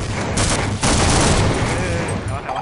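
Rapid, loud bursts of gunfire in Half-Life: Episode One crackle continuously in a dense fusillade, with a brief dip before the shooting resumes.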